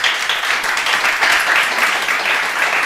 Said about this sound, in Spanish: Un aplauso para Santi Pujadas.